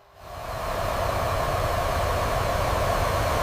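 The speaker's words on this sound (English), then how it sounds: "Iraqi AAA gunners frantically search the hazy skies for the source of the jet engine roar" An A-10 Warthog jet engine roar swells quickly from near quiet into a sustained, loud, broad rumble that holds steady to the end.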